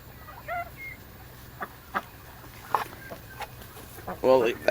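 Hens cluck and call in a pen, with scattered short clucks and a louder squawking burst near the end, fairly close over a quiet background.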